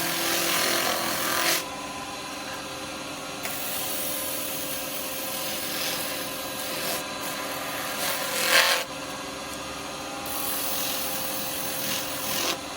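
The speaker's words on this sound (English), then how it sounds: "do as much sanding as you want with this" A wooden Christmas bauble spins on a woodturning lathe while being sanded, making a continuous rasping, rubbing hiss over a steady motor hum, with brief pauses and changes in pressure and no talking.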